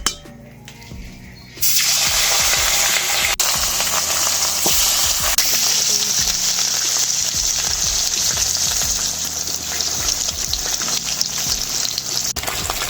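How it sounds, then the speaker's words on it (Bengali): After a quiet moment, a loud sizzling burst erupts as katla fish hits hot mustard oil in a kadai, then keeps crackling and spitting steadily, with occasional utensil clinks. "কড়াইতে তেল দিয়ে দিচ্ছি মাছটা ভাজার জন্য।"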